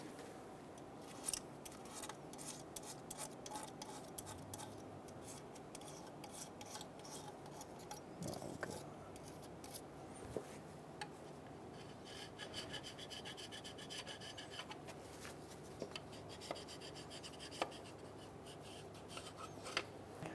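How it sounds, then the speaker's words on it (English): Continuous rasping and scraping as a metal scraper cleans old gasket material off engine surfaces on a 2003-2007 Honda Accord, with irregular clicks and ticks throughout; close, fairly quiet, no talking. "Go through and scrape these surfaces, get them nice and clean."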